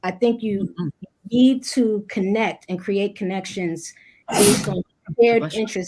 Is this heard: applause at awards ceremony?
no